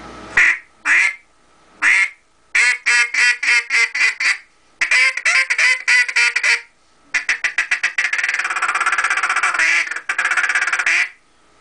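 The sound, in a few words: duck call being blown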